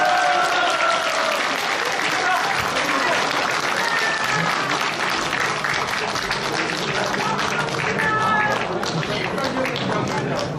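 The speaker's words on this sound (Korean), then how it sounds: "두분 박수 부탁드립니다" An audience applauds steadily and loudly throughout, a dense wash of clapping at a gathering honoring a witness from the South Jeolla provincial office in Gwangju, with no talk over it.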